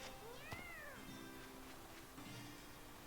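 A single faint, drawn-out cat meow rising and falling early on, over a steady low hum with a few soft clicks and no voices.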